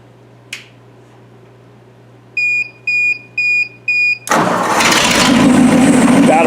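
A 1956 Lincoln Y-block engine running on propane: a sharp click and a run of four short electronic beeps, then the engine catches and settles into a loud, steady idle that keeps going.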